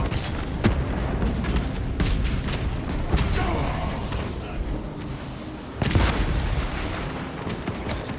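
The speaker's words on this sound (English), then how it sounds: "Frag grenade deployed!" Frag grenade blasts in Warhammer 40,000: Space Marine 2 come as heavy, booming explosions amid continuous gunfire and battle din, with sharp impacts recurring every second or two and a big detonation near the end.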